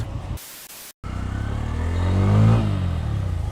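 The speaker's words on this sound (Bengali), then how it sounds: "যে বাইকটা আজকে চালাচ্ছি এই বাইকটা হচ্ছে" A Bajaj Pulsar N160 Digital motorcycle engine drones steadily while riding, swelling to a louder rev midway and then easing, heard close and alone after a brief cut.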